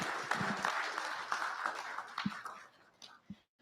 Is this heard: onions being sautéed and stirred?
no